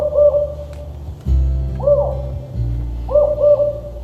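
An owl hoots in reply during a read-aloud story, three soft, rounded calls spaced through the clip, the last a quick double hoot, fairly clear over a low background hum.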